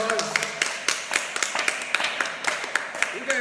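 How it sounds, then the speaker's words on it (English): Children applauding at the end of a preschool gymnastics class, a run of quick, uneven claps and taps close by, mixed with voices. "Guys, just give yourselves a huge round of applause."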